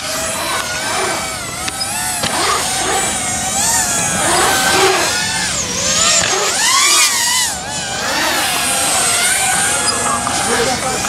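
A racing drone flies close around a bicycle, giving a loud, high-pitched whining buzz that swoops up and down in pitch as it passes and turns. It continues steadily throughout.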